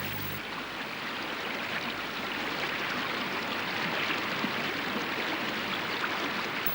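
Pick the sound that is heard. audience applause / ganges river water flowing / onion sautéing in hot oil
ganges river water flowing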